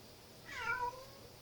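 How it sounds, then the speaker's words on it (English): A house cat lets out a single short meow, fairly quiet and close, with nothing else around it. "And that's my cat."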